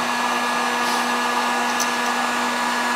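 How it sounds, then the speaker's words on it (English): A cheap Harbor Freight heat gun warms seam sealer inside a Triumph Spitfire during restoration, a steady close fan roar with a faint electrical hum and no break. "It's a cheapo little Harbor Freight heat gun."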